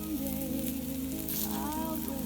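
Homemade burgers and onions sizzle in a pan at an evening wild camp, a steady dense frying hiss running throughout at close range with faint music playing in the background.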